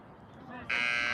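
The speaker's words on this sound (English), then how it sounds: "that's the buzzer for the end of the half" A sharp electronic buzzer blares suddenly after a moment of crowd noise and voices, marking the end of the half at a boys' lacrosse game, holding loud and steady.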